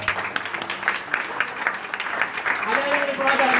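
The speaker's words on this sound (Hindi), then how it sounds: "ताली बजा धन्यवाद करेंगे" Worshippers at an outdoor street prayer gathering of a Ludhiana church clapping in thanks, with a steady crowd clap under speech, and a sustained tone rising near the end.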